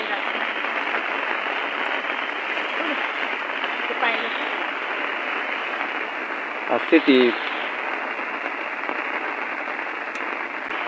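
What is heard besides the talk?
heavy monsoon rain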